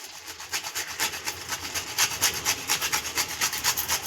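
Nutmeg grated by hand over carrot halwa, a close, rhythmic scraping of quick back-and-forth strokes that grows steadier and a little louder, with no talking.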